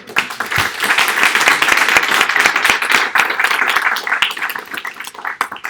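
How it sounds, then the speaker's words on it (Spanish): An audience at a Laravel tech meetup gives a round of applause, dense, lively clapping close and loud throughout, with no speech. "Denle un aplauso a César también"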